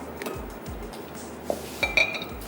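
A metal saucepan clinks and clatters as it is picked up and set on the kitchen stove for boiling milk, a few short close knocks and rattles with a brighter clank near the end.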